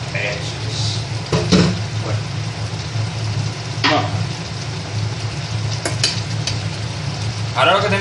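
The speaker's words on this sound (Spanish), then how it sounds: "vamos a echar este juguito. El juguito del pollo" Chicken juices poured into a hot frying pan with garlic chicken give a steady sizzle with stirring scrapes and utensil knocks, while a person talks over it.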